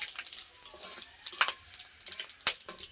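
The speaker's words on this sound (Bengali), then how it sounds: "ফোড়নটা একটু ভালো করে ভেজে নেব" Whole spices, mace, nutmeg, cinnamon and bay leaves, fry in hot oil with a faint crackling sizzle, irregular pops and light stirring scrapes close by, with no one talking.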